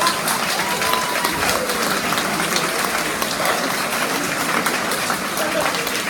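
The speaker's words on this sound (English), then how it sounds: "Let's give them one more big round of applause." Sustained applause from a graduation ceremony audience honoring student tutors, a dense, even wash of clapping that fills the hall for several seconds at steady loudness, with crowd murmur underneath.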